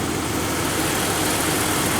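A Lexus 3.5-liter V6 engine idles with a steady, even rumble and broadband hum, close and fairly loud throughout, with no voices.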